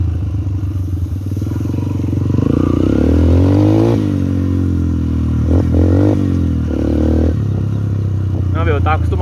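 A motorcycle stuck in sand by a river in Barbosa, São Paulo, revs loudly and repeatedly up close, its engine rising and falling in pitch with rattling clatter, and a voice is briefly heard near the end.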